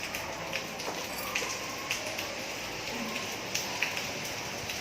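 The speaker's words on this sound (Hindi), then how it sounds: "बारिश आ रही है, टप टप टप टप हो रहा है।" Light rain falls on a home garden with bitter gourd plants, a soft steady patter with scattered drops tapping faintly close by.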